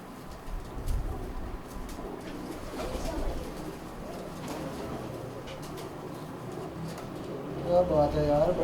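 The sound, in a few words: Indian Khatang pigeons cooing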